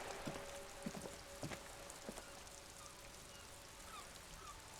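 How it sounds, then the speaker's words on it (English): Rain with a leaky gutter in the video game Disco Elysium: a faint, soft hiss of rain with scattered drips and small taps, mostly in the first half and fading toward the end. "it kind of sounds like rain that's mostly gone off, but there's like a leaky gutter"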